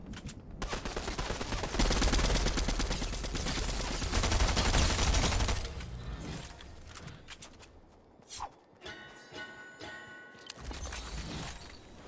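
Fortnite gameplay fills with dense gunfire, rapid bursts and volleys rattling almost continuously before thinning into scattered shots and softer game effects.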